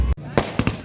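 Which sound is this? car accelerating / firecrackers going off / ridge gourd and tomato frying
firecrackers going off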